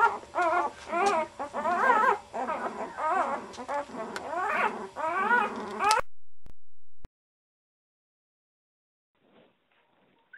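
A litter of five puppies, two small runts and three larger siblings, gives a close run of high, wavering whimpers and squeals that stops abruptly partway through, leaving near silence with only a faint rustle near the end.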